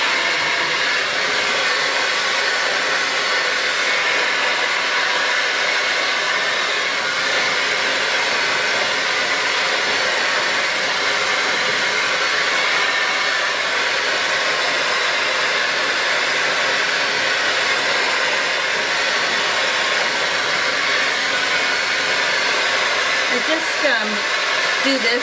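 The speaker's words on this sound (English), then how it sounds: "So that's the hair dryer I use." A hair dryer blows hair dry with a steady, loud, close whooshing roar that holds unchanged for the whole stretch.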